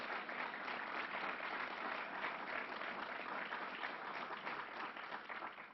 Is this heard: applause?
yes